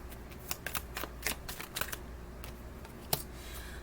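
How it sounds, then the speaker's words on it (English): A deck of oracle cards is shuffled up close, with quick riffling bursts and soft slaps in an uneven rhythm, and no talking over it. "All right, so I'm going to shuffle up."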